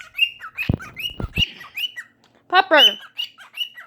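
A pet cockatiel gives repeated shrill chirps and squawking calls, loud and close, in quick bursts with a harsh rasping run near the middle, while a person briefly speaks in between.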